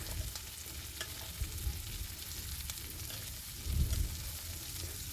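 Carrot, cabbage, green chilli and capsicum frying and being stirred in a pan for egg noodles, a steady sizzle with soft spatula scrapes and a brief louder stir near the end, no voices.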